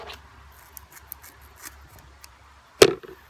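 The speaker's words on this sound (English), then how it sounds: "so I'm going to cut it off about there" A single sharp snip cuts through a long strap on an Eide boat loader, one crisp cut near the end of an otherwise quiet stretch with faint handling noise.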